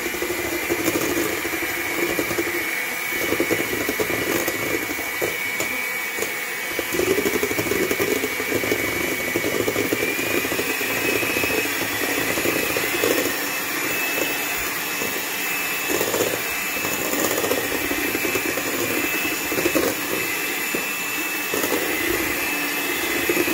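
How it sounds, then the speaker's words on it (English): An electric hand mixer whirs continuously as it whips dalgona coffee, a steady motor drone with slight wavering as the beaters move through the thickening mixture, close and uninterrupted. "Let me try the mixer."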